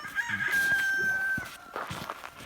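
Roosters crowing on a mountain property, a close drawn-out cock-a-doodle-doo call followed by more clucking and crowing, moderately loud with no talking.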